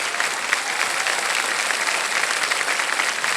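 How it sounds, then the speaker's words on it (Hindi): A studio audience on a televised quiz show bursts into steady, dense applause, loud and continuous with no speech over it. "ताली बजाएं इनके लिए"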